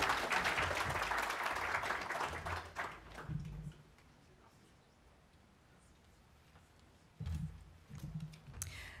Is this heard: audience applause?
yes